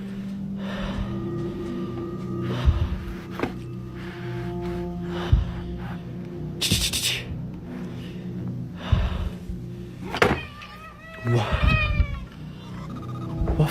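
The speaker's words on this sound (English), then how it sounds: "The cats keep meowing, as if they are trying to warn him about something inside the room" Several cats meowing indoors in a room, with loud, near, repeated meows and caterwauls plus snorts and breathy sounds scattered across the span amid a low background rumble.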